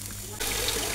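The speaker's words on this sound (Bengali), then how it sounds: "এখানে গরম পানি দিয়ে দিচ্ছি পোলাওটার ভিতরে।" Hot water is poured into fried pulao rice while cooking chicken biryani, a brief, close splashing gush that starts abruptly after a short moment of quiet.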